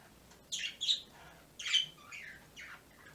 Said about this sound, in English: Chirp, chirp, chirp. Chirp,